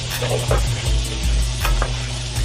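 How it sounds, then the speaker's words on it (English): Mirepoix vegetables sizzling in bacon grease, a busy crackle with scraping stirs and light pan knocks, close and unbroken by talk. "now we have these mirepoix vegetables that we had made up. So we're gonna put that in there. right into that bacon grease."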